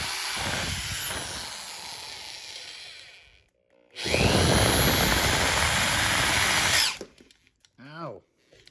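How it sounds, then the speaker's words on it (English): A power drill drilling out a metal part whines loudly in two long bursts separated by a short pause, followed by a few faint clicks and a brief squeak. "I need to drill this out"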